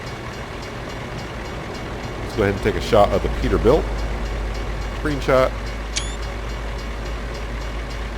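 A train rolls past in American Truck Simulator, a steady low rumble of rail cars under a man's speech, with a short high horn-like tone cutting through near the end.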